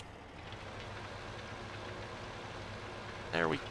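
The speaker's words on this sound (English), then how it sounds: "Get the tractor fired up here." A tractor engine in the video game Farming Simulator 15 hums steadily at a low idle, a faint continuous drone with a brief louder rise near the end.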